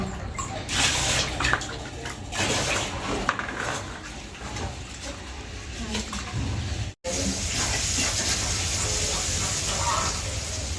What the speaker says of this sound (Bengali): এই যে শাক ভাজি চলে দিচ্ছে এটা হলো মটরের শাক